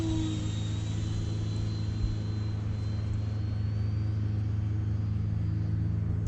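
An E-Flite Viper 70mm EDF RC jet on 6S power flies over a football field, giving a steady, distant whooshing rumble with a faint high ducted-fan whine that holds constant throughout.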